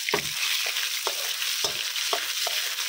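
Garlic and roasted red curry paste stir-fried in hot oil, a continuous close sizzle broken by several spatula scrapes against the pan at irregular intervals, no talk.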